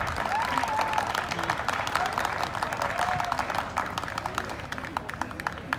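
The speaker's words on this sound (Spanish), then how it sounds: "Otra vez, puros aplausos." Audience applause at a tournament in a plaza, a sustained crowd of clapping hands with sharp individual claps standing out, a few whistles rising above it and fading slightly toward the end.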